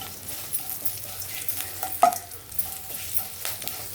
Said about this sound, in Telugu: పసుపు వేగిపోయిందండి